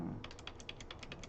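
Keys on a computer keyboard are pressed in a quick burst of light, rapid clicks, close and fairly soft, with a brief low murmur at the very start.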